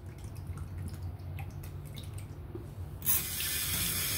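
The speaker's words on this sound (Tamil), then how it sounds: "ஸோ வாங்க இதை கழுவுவோம்." Tap water runs steadily over canned mackerel being washed in a kitchen sink, a low continuous splash that swells into a brighter, louder gush near the end, no voices.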